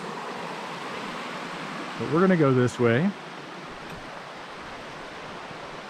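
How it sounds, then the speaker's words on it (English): Creek water flowing steadily beside a Montana wilderness trail, a constant broadband rush filling the background while a person briefly talks over it. "There's the creek."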